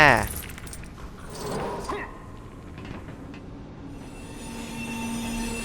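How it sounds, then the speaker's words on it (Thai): In the Lego Batman 2: DC Super Heroes game, a train crashes with a loud metallic screech and clatter at the start, then fades into a lower rumbling hum while someone talks over it. "รถไฟชนครับพี่"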